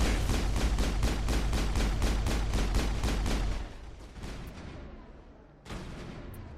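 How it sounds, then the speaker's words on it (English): Heavy weapon fire from a rocket launcher in Mass Effect 1 pounds in a fast, steady, loud barrage for several seconds, falls away into a rumbling tail, then one more blast hits near the end. "who brings a rocket launcher for an assassination?"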